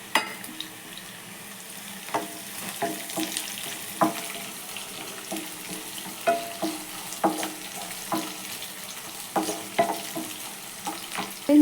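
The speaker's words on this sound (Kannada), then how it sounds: "ಸ್ವಲ್ಪ ಈರುಳ್ಳಿ ಫ್ರೈ ಆಗಲಿ. ಮೆಣಸಿನ್ಕಾಯಿ ಮತ್ತು ಕರಿಬೇವು ಇವಾಗ ಸೇರಿಸ್ಕೊತಾ ಇದ್ದೀನಿ." Onions fry in a pan with green chillies and curry leaves, giving a soft, steady sizzle broken by frequent light clinks and scrapes of stirring, close and fairly quiet.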